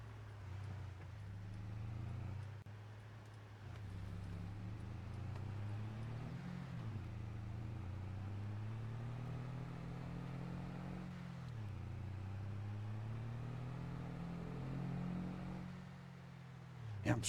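A slow bus engine drones in Farming Simulator 22, a faint, steady low hum whose pitch rises and falls gently with speed changes, continuous and quiet throughout with no speech.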